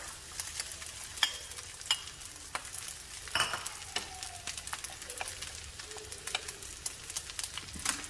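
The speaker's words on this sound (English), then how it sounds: "Now I'm going to cook 2 large eggs that I beat right on the side of the pan." Two beaten large eggs cook on the side of a hot pan beside fried rice, a steady soft sizzle with scattered clicks and light stirring taps close by.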